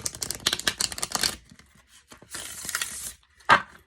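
Glossy tarot cards being shuffled in close bursts of riffling and flapping, a long run at first, a quieter stretch, then a second run and one sharp final snap.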